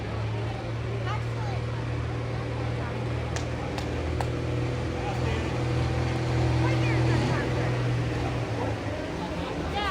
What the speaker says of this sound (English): Chris Cameroni on the 1206 International